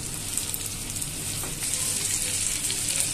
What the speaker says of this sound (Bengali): এখন আমি ভালো করে ভেজে নেওয়ার জন্য অপেক্ষা করছি।